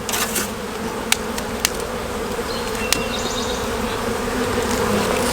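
Bees from an opened hive full of brood fill the air with a dense, steady buzzing drone, a few sharp clicks and taps scattered through it, with no talk.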